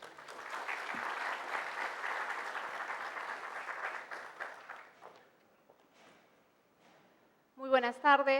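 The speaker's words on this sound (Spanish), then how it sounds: "Un fuerte aplauso, por favor." Audience applause at a seminar greets a speaker, a steady round of clapping that fades out over several seconds into quiet before a voice begins speaking at the end.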